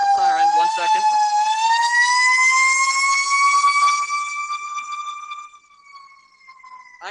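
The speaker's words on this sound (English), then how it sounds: "waiting for this siren, 1 second" A loud wailing siren passes outside a city council meeting, rising and holding its pitch, then fading as the vehicle moves away, leaving quieter background behind.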